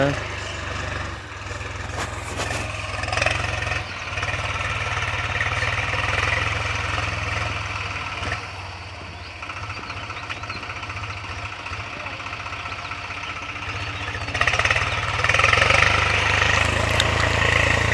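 A tractor engine runs steadily in a ploughed farm field, a low continuous rumble with knocking texture that stays constant throughout, with outdoor background noise over it.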